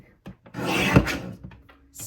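A paper trimmer slices through paper for a scrapbook page kit, a single short rasping cut of about half a second, close and clear, framed by light handling clicks.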